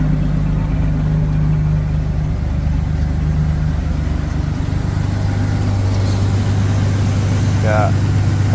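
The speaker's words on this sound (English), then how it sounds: "She does have a pretty decent sounding exhaust on her though, for V6." A Chevrolet Camaro V6 idling through a Flowmaster exhaust, a steady low rumble that holds an even, close drone with slight shifts in pitch.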